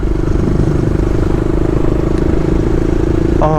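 A motorcycle ridden at a steady pace on a road near Dhupguri, its engine droning loud and close with a constant low hum, plus some clattering and wind noise.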